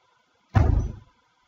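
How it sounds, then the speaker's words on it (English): A single door slams shut, a loud, close, blunt thud lasting about half a second before cutting off into silence. "That door slam wasn't loud enough."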